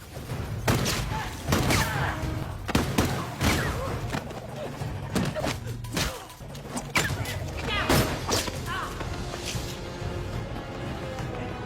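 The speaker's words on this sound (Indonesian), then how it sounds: "Susan dengan sigap mengambil pistol yang tergeletak di lantai dan menghabisi anak buah De Luca satu persatu." Sharp pistol gunshots crack out in irregular bursts in a film action scene, several loud reports with thuds between, mixed with tense voices and scuffling.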